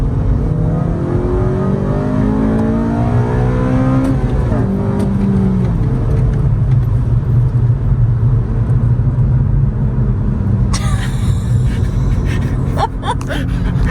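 An 8th-generation Honda Civic Si, bone stock apart from a K&N drop-in air filter, revs hard and climbs steadily toward the VTEC crossover around 5,800 RPM. Its loud, rising engine note carries through the whole stretch with no talk.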